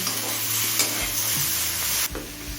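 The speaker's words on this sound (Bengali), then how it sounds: "সমস্ত মশলা দিয়ে মিনিট পাঁচটায় কষিয়ে নিয়েছি" Spices sautéing in a pan for Bengali panchmishali mixed vegetable curry, a loud, steady close sizzle with stirring scrapes and a few clanks of the spoon against the pan, no talking.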